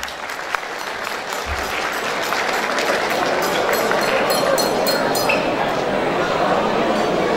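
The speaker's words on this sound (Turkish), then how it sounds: "Alkışlarınız köyümüzün muhtarı Ülgen Sanrıver için gelsin." Crowd at a village goose night in Aydıngün applauding the village headman, a dense, steady wash of clapping sustained throughout with some murmuring voices mixed in.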